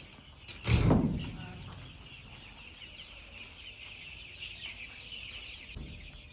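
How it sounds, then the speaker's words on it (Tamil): A shed holding about 150 Aseel breed country chicken chicks gives out a constant high-pitched peeping chorus, close and steady, after a brief thump near the start. "இதுதான் அந்த 150 கோழி குஞ்சு."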